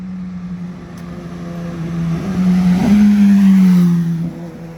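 A 2018 Suzuki GSX1000R L8 motorcycle exhaust drones steadily up close, swelling into a louder rev midway before settling back to a rumbling idle.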